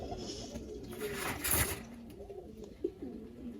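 Soft, low coos of a female pigeon rumble close by, a few repeated throaty calls over faint background noise and light handling sounds.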